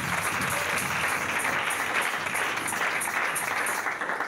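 A church congregation applauds the Lord in a sustained, dense wash of clapping that holds steady and loud throughout, with no pause.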